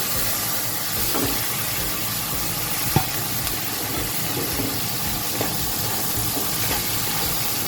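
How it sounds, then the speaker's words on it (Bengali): Sliced onion frying in a pan for a Bengali mutton and potato curry gives a steady, close sizzling hiss, with a few faint pops and crackles scattered through it. "পেঁয়াজটাকে অল্প পরিমাণ ভেজে নেব আমি"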